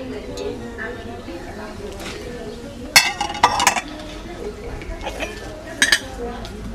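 Attiéké spooned into a container in a kitchen in Abidjan, Côte d'Ivoire: a few bright clinks and scrapes of a spoon on the dish, clustered in short bursts over low background noise with a voice nearby.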